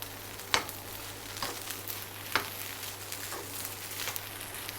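Onion and tomato stir-fried in a pan for fried rice, giving a soft, steady sizzle with a few distinct scraping stirs of the spatula spaced a second or two apart, and no voices.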